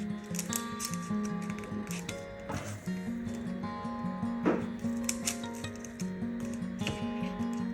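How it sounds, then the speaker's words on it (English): Scissors snip through paper while hand-cutting a kirigami lattice form, with short repeated cuts in a steady rhythm, close and moderately quiet, over a faint tonal background. "Cut them all towards the centre and stop at the centre there."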